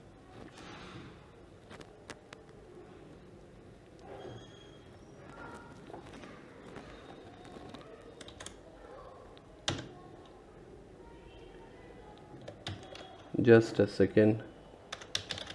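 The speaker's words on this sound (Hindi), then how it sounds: "तो if like I have to type something" Keys clatter on a Logitech K480 Bluetooth keyboard in short bursts, faint and sparse through most of the stretch, then a louder flurry near the end, with a person talking intermittently over it.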